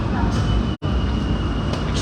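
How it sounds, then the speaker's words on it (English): New York City subway train arriving at a station, a loud steady rumble and roar filling the platform, briefly cut by a sharp gap, with a voice heard over the noise. "the subway's here"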